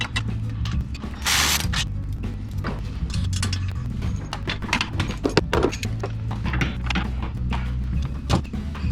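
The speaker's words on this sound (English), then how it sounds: "Got two 14mm bolts to take off here." Under a car during a turbo kit install, a hand ratchet clicks in quick repeated bursts while two 14mm bolts are backed off, close and clear, with metallic clinks and shuffling between strokes.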